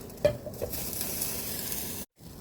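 A pot of water with a pork leg for crispy pata boils hard on the stove, a steady close bubbling hiss with a few clinks near the start before it cuts off abruptly.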